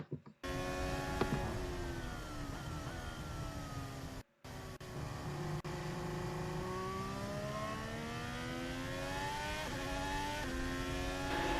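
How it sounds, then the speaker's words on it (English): A Formula 1 car engine whines at high revs, pitch sweeping down and back up through gear changes, loud and continuous with a brief cut near the middle, at the 2021 Abu Dhabi Grand Prix. "hearing an engine note"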